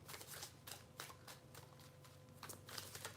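Tarot cards shuffled by hand in a quiet room, a steady run of soft riffling bursts repeating across the stretch, close and fairly faint.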